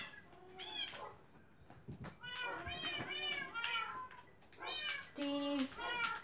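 Baby cats in the Minecraft video game meow repeatedly in quick, overlapping calls, fairly close and loud, with a few brief voices mixed in.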